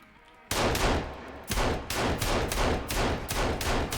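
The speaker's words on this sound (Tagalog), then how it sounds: "Shots fired!" Rapid bursts of gunfire in the survival video game Sons of the Forest, loud and close, firing in a steady repeating rhythm of sharp shots for several seconds with no talk over them.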